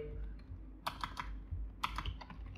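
Quick clusters of keystrokes on a computer keyboard as a Django command is typed, two short bursts of clicky taps close by over a faint low hum.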